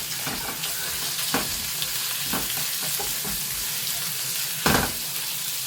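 Pork sizzling in a hot pan while being stirred, a continuous loud frying hiss with scattered scraping clicks from the utensil and a stronger stir burst near the end.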